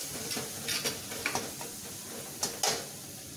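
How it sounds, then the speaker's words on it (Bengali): Spice masala with salt and sugar fries in a pan for a fish kalia, a soft background sizzle with a few sharp scrapes and taps of stirring, quiet and close, with no talk. "মশলাটাকে ভালো করে কষিয়ে নিয়ে"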